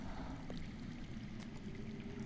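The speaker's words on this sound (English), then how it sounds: "That's water. I hear water. From underground." Water flowing underground in a game scene, heard as a steady, faint trickling wash beneath a low ambient rumble, with no talking.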